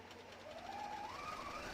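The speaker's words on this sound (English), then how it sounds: "Then I can put my presser foot back down and chain off" Faint, steady motor whine from a sewing machine chaining off fabric while making a mock turtleneck, rising slightly in pitch as it runs alone for under two seconds.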